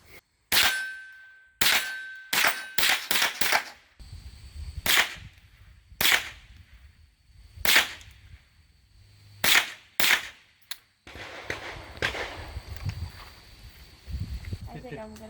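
Rifle shots at an outdoor shooting range, a series of sharp cracks in uneven bursts, some close together and others spaced apart, with metallic clanks and shuffling between them and people talking in the background.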